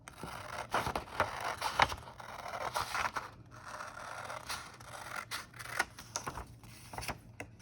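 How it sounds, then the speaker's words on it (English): Scissors snip and scrape along a marked line on a book cover while making an accordion book, giving a steady run of close, crisp cutting strokes with no talking. "Now we use our scissors and we'll just cut along that line that we created."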